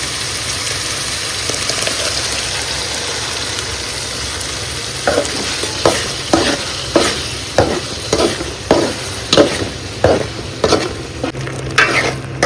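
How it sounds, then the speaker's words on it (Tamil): Ground tomato goes into a pan of sautéed onion, ginger and garlic for a Madurai wedding-style pepper chicken, sizzling steadily while a spoon scrapes and stirs in regular rhythmic strokes, close and loud. "இப்போ நம்ம அரைச்சி வச்ச தக்காளி ஆட் பண்ணிக்கலாம்."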